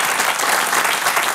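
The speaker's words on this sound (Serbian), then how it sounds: "O, to je divno, molim vas, aplauz." An audience claps in sustained, dense applause throughout, a broad even wash of many hands at fairly close range with no voices standing out.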